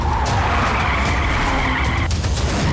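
A car skidding with a loud, continuous tire squeal during a chase in an action film, close and sustained over engine noise, without speech.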